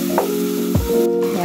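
A steady sizzle as boiling liquid is poured into a hot roasting pan, hissing continuously throughout the short moment.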